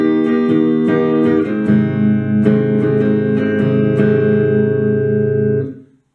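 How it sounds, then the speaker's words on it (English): Electric or acoustic guitar plays the riff from the first half of the chorus of a song: a run of plucked notes and strummed chords, close and clear, ringing out and fading at the end, with no voices. "So the first half of the chorus should sound like this."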